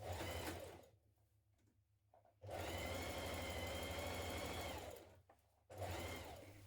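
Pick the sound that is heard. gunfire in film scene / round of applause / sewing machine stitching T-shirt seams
sewing machine stitching T-shirt seams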